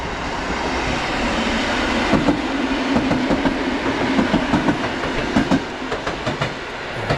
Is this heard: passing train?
yes